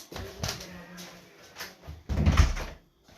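A door closes in the Roblox game Brookhaven, with a few soft knocks and then a louder thump near the end, under quiet room noise and no talking.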